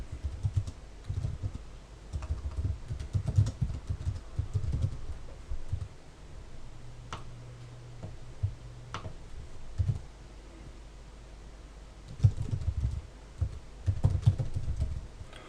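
Keys clack in steady bursts on a computer keyboard as a default password is entered during a WordPress blog install, short runs of taps separated by pauses, close and fairly loud with a low background hum.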